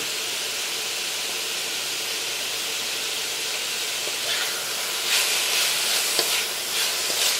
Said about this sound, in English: So basically we're just gonna saute this or cook it off so it's almost done